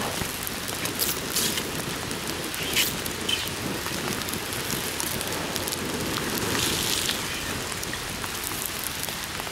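Steady rain falling and pattering on a surface, a constant dense hiss with scattered louder drops, no voices.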